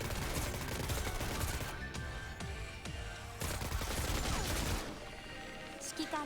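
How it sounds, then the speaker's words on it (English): Machine gunners open fire in the mobile strategy game Girls' Frontline, sustained dense bursts of gunfire and impacts layered over game music and effects, loud and continuous throughout. "These machine gunners can actually start shooting pretty quick."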